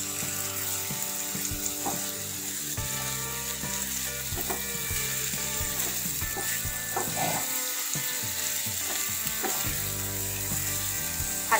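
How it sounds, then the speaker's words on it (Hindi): Tinda, or apple gourd, fries in oil with onion, ginger and garlic, giving a steady close sizzle throughout with occasional scraping and stirring knocks against the pan. "फ्राई करेंगे टींडों को ताकि एक ऑयल की लेयरिंग पर आ जाए, फ्लेवर आ जाए प्याज का, अदरक का, लहसुन का"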